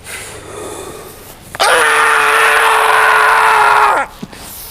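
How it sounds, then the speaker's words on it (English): A person lets out a single long, loud scream outdoors at Whitby, sustained for about two and a half seconds against wind and faint background noise before breaking off. "fill your lungs and have a good, long scream"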